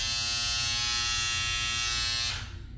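Wahl Detailer Li cordless beard trimmer fitted with a wide T-blade, buzzing steadily and loudly up close, then the tone drops as it is switched off near the end.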